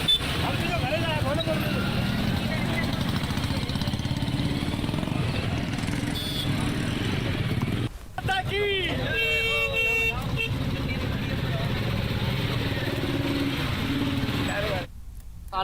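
Motorcycles of the Explorer Bikers rally at the Thar Mahotsav festival in Rajasthan rumble loudly and continuously close by, with horn toots and engine revs cutting through, and a voice talking over the noise.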